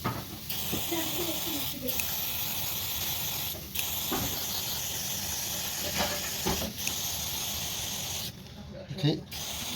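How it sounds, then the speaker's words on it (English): Aerosol cleaner sprayed hard onto a car's mass air flow sensor, steady loud hissing bursts broken by brief pauses, with a person talking over it. "So you can spray and make this one clean, spray hard, because this one is supposed to spray hard."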